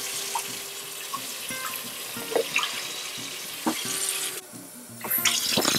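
Tap water runs into a sink while sanitized winemaking tools are rinsed, a steady close splashing with clinks and knocks of the tools and a brief change in the flow partway through.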